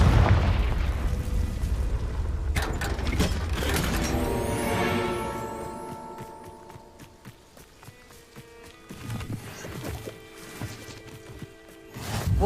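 Confringo spell explosion in Hogwarts Legacy: a burst of blasts and crackling impacts in the first few seconds, then a ringing magical tail that fades, with scattered thuds and hits afterward.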